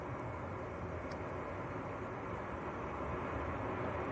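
A Ryanair airliner on its takeoff roll at Manchester Airport, a steady broadband jet roar holding at an even level throughout, moderately loud and unbroken, with no voices over it.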